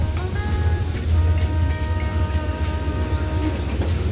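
Train rumbling through an old station in Thailand, a steady low roar with metallic screeching tones rising and fading over it, close and continuous without talk.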